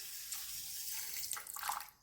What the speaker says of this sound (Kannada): ಸಕ್ಕರೆ ಮುಳುಗುವಷ್ಟು ನೀರು ಹಾಕೋಣ.